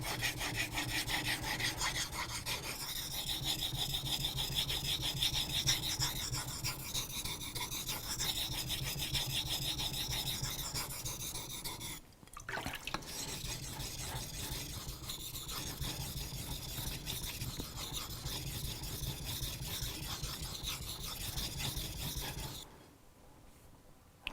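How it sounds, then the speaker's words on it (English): Steel blade edge being sharpened in long, steady rasping strokes, close and fairly loud, with a brief pause midway and a quieter stretch at the end, no talk. "you can turn it around and sharpen the other side as well."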